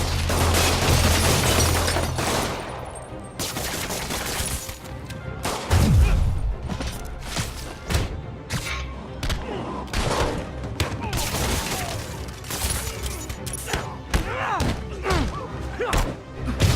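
Thugs fire guns in a Spider-Man PS4 game fight: rapid volleys of gunshots and thuds run nearly nonstop, loud and dense, with heavy impacts mixed in and a brief voice shout.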